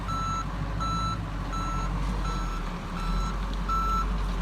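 A delivery truck reverses with its backup alarm beeping steadily, about six evenly spaced beeps over a constant engine rumble, fairly close by at a home patio job.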